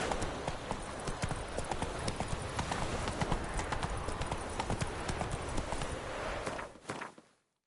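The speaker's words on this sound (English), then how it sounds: "Whoa there, Roach." Horse hooves clip-clop at a steady gallop in The Witcher 3 on PS4, a dense, continuous drumming of hoofbeats that stays fairly close before cutting off abruptly near the end.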